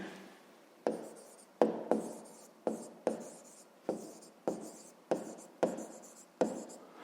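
Pen on paper working a fifth-grade maths exercise by hand, a string of about nine distinct scratchy strokes at a steady rhythm, close and fairly quiet.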